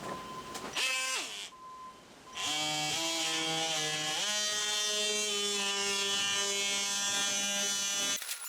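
A small power sander buzzes steadily and close while sanding door frame molding, its high whine shifting pitch a few times as pressure changes.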